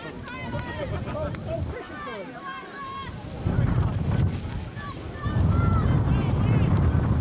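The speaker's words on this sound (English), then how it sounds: "The wind is whipping at J. Doyle Field" Strong gusts roar and buffet the microphone at J. Doyle Field during a 1992 girls' high school soccer match, swelling in loud surges while a commentator talks over it.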